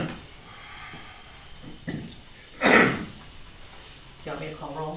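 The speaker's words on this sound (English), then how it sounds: "I gotta clear my throat." A person at a village council meeting clears their throat in one short, harsh burst amid quiet room noise and brief murmured speech.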